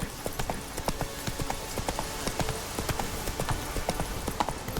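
Galloping hooves of the horse Roach in The Witcher 3 beat out a fast, steady clip-clop rhythm, close and clear over a soft background bed.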